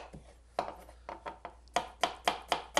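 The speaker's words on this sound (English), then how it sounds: "Now we cut the onions, also the onions very thin" A knife slicing onions very thin on a cutting board, sharp taps landing near and clear, sparse at first and then settling into a quick, even rhythm.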